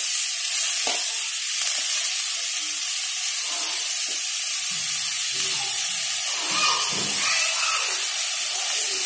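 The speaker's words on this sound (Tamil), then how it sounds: "இது கூட இப்போ வெங்காயம், கருவேப்பிலை, தக்காளி எல்லாமே சேர்த்து வணக்குறாங்க." Onion, curry leaves and tomato sauté in a pan for tomato kuzhambu with a steady, loud hissing sizzle and occasional stirring scrapes, heard without talk.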